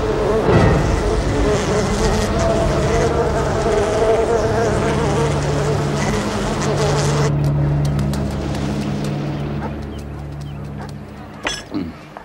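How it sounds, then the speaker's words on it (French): Honey bees (Apis mellifera) make a dense, loud buzzing drone that holds for several seconds, then thins out to scattered individual buzzes as it fades. "La variété d'abeilles domestiques la plus courante dans ce pays porte le nom d'Apis mellifera."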